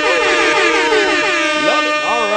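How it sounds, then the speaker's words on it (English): Loud, continuous blaring of an air horn, multiple bright tones sliding and wavering in pitch through the whole burst, heard alone. "That deserves an air horn."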